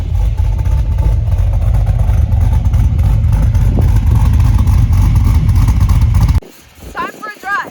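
A 2009 Pontiac G8 GT revs hard through its true dual exhaust, a loud, steady, pulsing low rumble that cuts off abruptly near the end, leaving quieter background sound.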